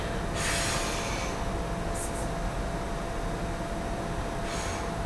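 Exaggerated breathing during a pilates exercise, heard as a few forceful breathy bursts, one longer near the start and two briefer ones later, over a steady hiss of background noise.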